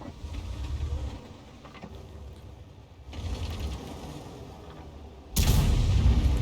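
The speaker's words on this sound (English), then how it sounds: "the AMX ELC is still firing rounds in our direction" An AMX ELC fires its tank cannon in World of Tanks: a loud, close single blast near the end, after several seconds of low mechanical rumbling and clanking.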